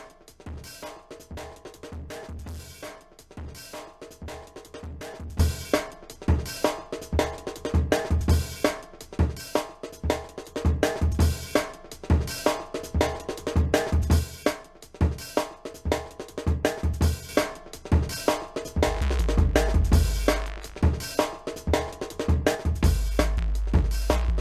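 A music beat processed with crunchy parallel distortion and saturation plays alone, with punchy rhythmic hits and thick low-end thumps that grow heavier in the second half, no talking.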